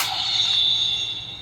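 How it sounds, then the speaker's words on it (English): A Kamen Rider Geats DX Bujin Sword Buckle toy blade gives a short, sharp metallic unsheathing shing. It starts loud and close, then a bright ringing tone holds and fades over about a second. "that's the sound of the unsheathing the blade and then pull back"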